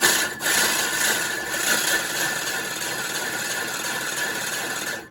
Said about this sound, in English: We want to turn the cylinder backwards and slowly.